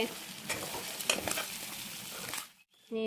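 Onions hit a hot pan in a Mishing home kitchen and fry with a steady, close, broadband sizzle, with a few louder crackles and stirring scrapes. The sizzle cuts out briefly near the end, then resumes.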